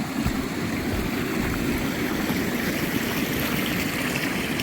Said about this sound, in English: And then we have a little creek crossing without a bridge.